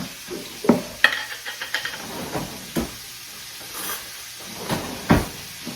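Garlic sizzles and hisses in a hot pot while being stirred, with scattered scraping clicks and clanks of a spoon against metal, fairly close and without talk.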